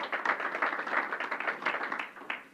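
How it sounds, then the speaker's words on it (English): A crowd gives a round of applause for Buffalo Mayor Byron Brown at a COVID-19 briefing with Governor Hochul, steady moderate clapping from many hands in a hall that fades after a couple of seconds. "Let's give him a round of applause"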